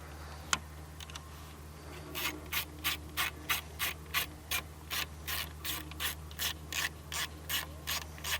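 A ratchet fitted with a 10mm socket works the grille fasteners on a 2022 Toyota Tacoma, a steady run of quick clicking strokes, close but fairly quiet, after a brief clank.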